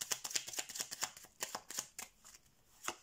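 Tarot cards being shuffled by hand, a quick run of crisp riffling flutters and soft slaps in an irregular rhythm, close and fairly quiet with no voice.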